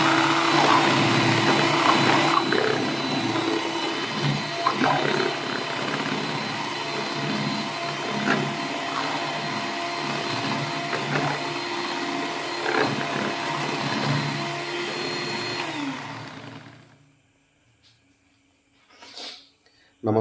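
An electric mixer whirs steadily through fabric conditioner, loud and continuous for about sixteen seconds, then stops, leaving near silence broken by a faint later sound.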